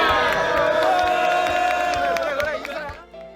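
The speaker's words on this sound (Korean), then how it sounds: "후배들은 박수와 환호로 선배들을 응원했습니다." Younger students in a school auditorium clapping and cheering for seniors the day before the college entrance exam, a lively crowd of voices and applause that fades out in the last half second.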